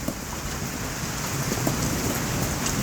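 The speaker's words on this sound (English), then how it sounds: "The biggest hail balls I've ever seen." Near-golf-ball-sized hailstones pelt the ground around an off-grid cabin in Oklahoma, a dense, steady patter of hard impacts with a few louder hits, close and continuous with no voices.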